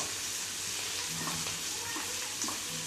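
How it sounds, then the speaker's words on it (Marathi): Fenugreek leaves sautéing in oil make a soft, continuous sizzle and hiss with faint stirring scrapes, fairly quiet and unbroken for the whole stretch. "मेथी परतून घ्यायची आपल्याला तेलामध्ये"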